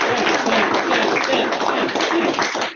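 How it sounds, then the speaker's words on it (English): Audience at a town hall meeting applauding, with dense, steady clapping filling the whole stretch at close range and a few voices mixed in. "everybody clap for Sam"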